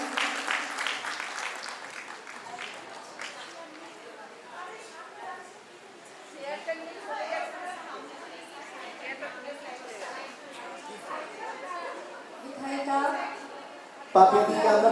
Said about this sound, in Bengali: করতালিকা চলতেই থাকুক